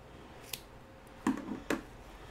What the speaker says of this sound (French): Et je coupe le surplus.